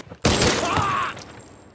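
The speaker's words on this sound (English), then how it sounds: "He fires at the exact same spot repeatedly." A gunshot at bulletproof glass in a Korean action film hits as one sharp, loud blast that rings out and fades over about a second.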